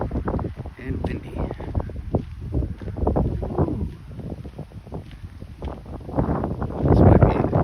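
Gusty wind on a cold Gulf of Mexico beach at sunrise buffets the microphone in uneven rumbling bursts, swelling and easing, strongest near the end, with no clear voices.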